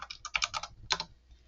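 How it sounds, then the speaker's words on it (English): Quick clicking keystrokes on a computer keyboard, a fast irregular burst, a short pause, then a few more taps close up. "You can probably hear me typing, sorry."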